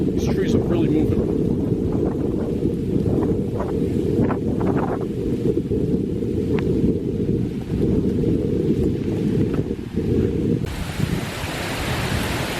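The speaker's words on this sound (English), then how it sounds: "Got some very strong winds. These trees are really moving." Strong night wind gusting at 30 to 40 mph through trees in the Barrens of Central Nassau, a loud, constant roaring rush, with someone talking over it.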